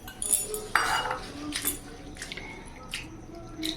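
Flattened rice (poha) is rinsed in a bowl of water by hand, giving close, soft splashing and dripping with a few light clinks of a vessel, quiet and brief with no talking.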